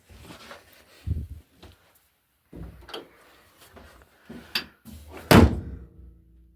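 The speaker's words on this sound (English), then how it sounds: "let's close this door." A classic Austin car's door swings shut with a solid, loud thunk near the end, following a few softer clunks and rattles of handling.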